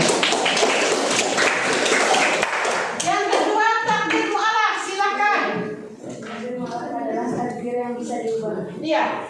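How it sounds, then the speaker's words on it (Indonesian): A school class claps in a lesson about belief in divine decree, with a burst of dense hand clapping for about three seconds, followed by children talking. "Kita kasih tepuk tangan untuk yang kedua kali."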